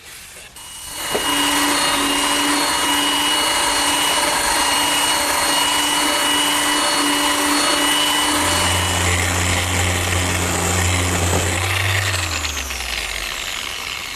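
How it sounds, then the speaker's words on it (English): A power sander smooths and flushes wooden Shaker step stools, a loud, steady whining drone that runs unbroken for over ten seconds, dropping in pitch as it spins down near the end. "now it's just a matter of sanding everything smooth and flush."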